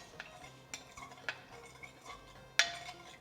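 A spoon stirs yogurt into a cup of warmed milk, giving light metallic clinks and scrapes against the bowl in an irregular rhythm, close and quiet, with one sharper chink near the end.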